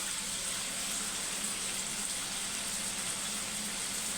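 Onions sauté in a pan for a lentil dumpling curry, a quiet, steady sizzle of frying that runs evenly throughout with no voices.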